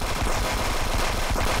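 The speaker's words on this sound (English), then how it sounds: "Whoever I was shooting, did you die?" Rapid automatic gunfire from the video game Friends vs Friends fills the clip with dense, continuous bursts of loud shots and no pauses.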